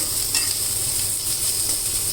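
Carrots and cashews sautéing in oil over low heat for wheat rava upma, giving a steady, even sizzle with faint stirring and no voices.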